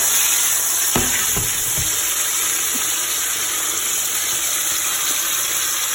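Beef mince fries in a pan with a steady, loud sizzle and hiss, broken by a few stirring knocks early on.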